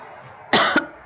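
A single sharp cough, followed by a brief second catch, from a person close to the mic during a tax Q&A. It stands out against a quiet room.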